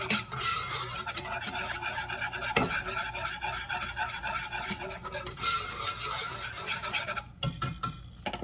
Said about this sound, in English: Like to give it a minute to mix in really well before we add in that heavy cream.